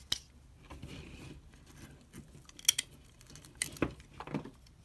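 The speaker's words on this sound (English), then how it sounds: "right here is where I'm going to cut it" Scissors snip through rope during a long splice, a few sharp cutting clicks and crunches spread across the moment, close and fairly quiet with handling noise between.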